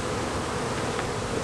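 A dense swarm of honeybees clustered in place during a bee removal hums continuously, a close, steady buzzing drone with no talking.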